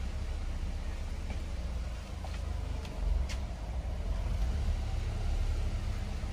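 A van engine idles unevenly after a fuel pump install, its low, close rumble rising and falling in loudness over several seconds without any speech.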